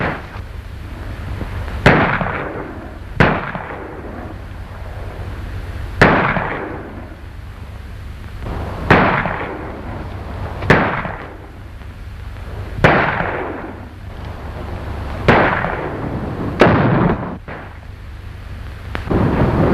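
Gunshots in a Hopalong Cassidy western shootout crack out roughly a dozen times, loud and spaced a second or two apart, each followed by a long echoing decay.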